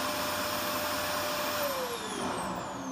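An AEG Ultracaptic Deluxe vacuum cleaner runs steadily with its floor nozzle, a smooth whooshing roar, its motor pitch sliding slightly downward partway through.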